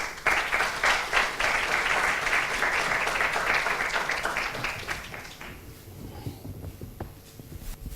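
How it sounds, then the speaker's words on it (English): A warm round of applause from a conference audience greeting panelists: dense, loud clapping that holds steady for several seconds, then thins out and fades to a few scattered claps and room noise. "Give them a warm round of applause"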